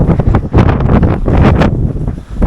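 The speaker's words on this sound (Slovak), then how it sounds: "už tu fúka vietor a sneží" Strong outdoor wind in Iceland, with snow falling, buffets the microphone in loud, continuous gusting roars that swell and dip throughout, with no other sounds.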